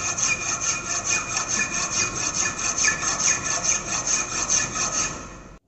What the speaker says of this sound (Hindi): जो ऊपर का सतह रफ बना है उसे फाइल के द्वारा फाइलिंग करके चिकना